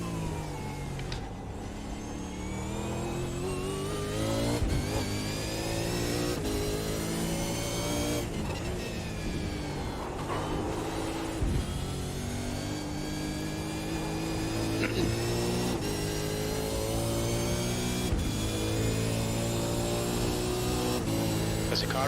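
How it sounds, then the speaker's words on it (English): Supercars racing at a Detroit street circuit in a racing video game, engines droning and revving continuously near the pits, with several passes and gear shifts blending into a constant roar. "There's a car exiting the pits,"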